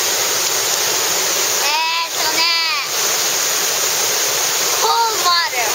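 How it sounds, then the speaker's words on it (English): Steady broadband rush of a waterfall in Japan, constant and fairly loud throughout, with a person's voice talking over it in a couple of spots. "What do you want to call these waterfalls?"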